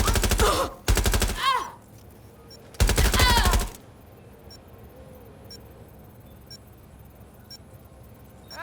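Turret machine gun fire in the Watch Dogs Legion video game: two or three loud rapid bursts in the first four seconds, then quieter game ambience.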